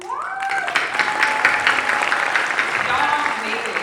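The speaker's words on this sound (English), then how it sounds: "give yourself a round of applause" Graduates applauding at a Harmony School of Innovation Garland graduation ceremony, a loud, sustained roar of clapping from a large crowd filling the hall, with cheering voices rising through it.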